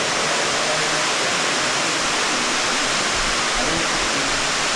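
A steady, dense rush of falling water from Ruby Falls, an underground cave waterfall, fills the space as a continuous roar with no breaks from start to finish.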